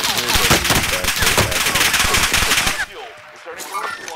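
Rapid automatic gunfire in Call of Duty: Modern Warfare, loud, dense bursts of shots rattling for nearly three seconds before cutting off, then quieter game sounds with voices in the background.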